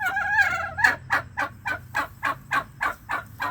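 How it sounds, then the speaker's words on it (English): Heritage turkeys on a farm gobble close by. A drawn-out warbling call is followed by a rapid, even run of about ten clipped gobbling bursts. "I think these are called heritage turkeys"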